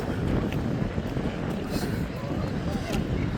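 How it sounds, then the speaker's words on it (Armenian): Strong gusty wind buffets the microphone in a continuous low roar, loud and close, with no clear voices over it, at a seaside location. "մի քիչ քամի է"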